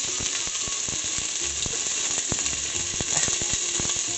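Finely chopped onions and garlic sauté in cooking oil for a creamy pumpkin soup, a steady dense sizzle with scattered scraping clicks of a utensil stirring the pan throughout.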